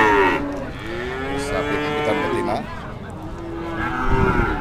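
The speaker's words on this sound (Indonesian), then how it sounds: "Ini sapi bibitan betina." A young Limousin heifer calf lets out a drawn-out moo, then a second lower call, at a busy cattle market with crowd murmur underneath.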